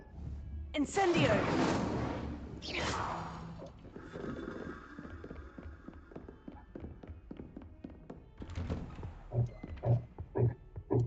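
Incendio fire spell cast in Hogwarts Legacy, a fiery whooshing burst that flares twice near the start, then settles into crackling game effects and light taps, with voices sounding in the mix.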